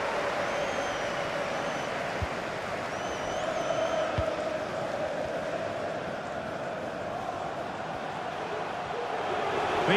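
Stadium crowd in the FIFA 23 video game during a Chelsea versus Arsenal Champions League final, a steady, broad roar of cheering fans filling the background at even loudness throughout.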